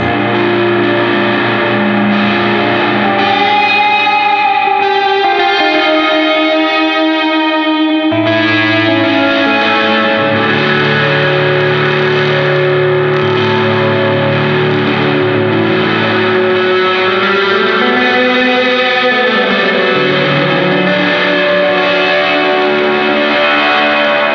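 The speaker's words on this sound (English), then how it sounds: "let's really saturate it and, and hear where this can go" A synth pushed through heavy saturating distortion, with thick, buzzing sustained tones that shift pitch and texture partway through, loud and continuous with no voices.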